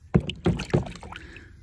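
A safety razor scrapes across stubble during a slightly scratchy two-pass shave, giving three close, rasping strokes in quick succession that trail off into quieter scraping.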